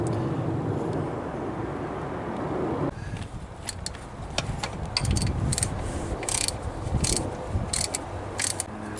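Ratchet clicks while a tensioner is bolted back onto a 2005 Chevy Suburban engine during water pump and thermostat replacement, with short bursts of sharp ticking over a steady background hum.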